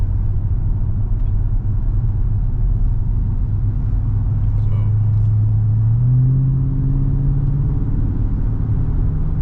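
A Dodge Charger Scat Pack widebody with an automatic gearbox drones with a deep, steady engine rumble from inside the cabin, then the pitch climbs as it accelerates onto a highway.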